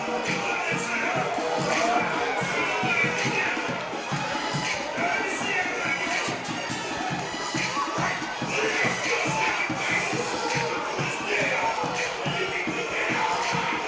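A crowd at a high school football game murmurs and cheers in a steady, moderately distant wash of noise, with scattered shouts and talking mixed in.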